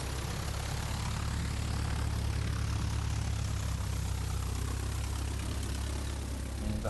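An aeroplane engine runs at an airfield during an air display, a steady droning hum with a constant low throb, continuous and fairly loud without speech.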